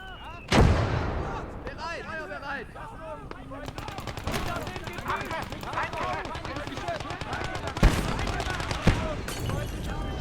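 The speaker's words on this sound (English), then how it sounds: "Let's get some mortar fire in here" Repeated mortar and artillery fire in a war video game: dull booming launches and impacts stack into near-continuous volleys, with sharp louder blasts near the start and toward the end, and a voice speaking over the barrage.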